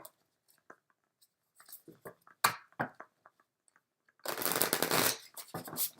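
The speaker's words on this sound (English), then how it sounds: "These are so hard to shuffle." Tarot cards being shuffled with difficulty, a few light scattered riffles and taps followed by a dense, louder burst of shuffling near the end, close up with no voice over it.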